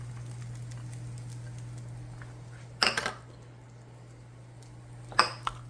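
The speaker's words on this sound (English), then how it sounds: "Let's throw some onions in there." Onions tossed into a hot pan land with two brief clattering, sizzling bursts a couple of seconds apart, over a steady low hum of background equipment.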